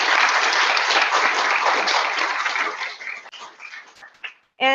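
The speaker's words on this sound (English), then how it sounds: "Let's give another round of applause to all the teachers" A crowd at a teacher awards ceremony claps loudly and steadily, the applause thinning out and fading over a few seconds before a voice begins.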